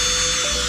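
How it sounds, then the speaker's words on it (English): A hand drill with a small countersink bit spins into holes in metal bottle art, a steady close whirring hum with a shifting tone, loud and alone. "throw a small countersink into my drill"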